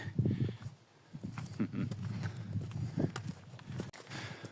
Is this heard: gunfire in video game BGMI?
no